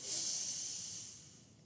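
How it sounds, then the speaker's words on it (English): One slow, drawn-out exhale during a yoga breathing exercise, soft and airy, close to the mic, gradually fading over under two seconds. "And slow as you can, breathe out."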